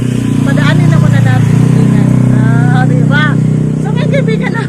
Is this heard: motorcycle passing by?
yes